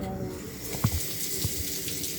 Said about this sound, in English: and then I turn the water on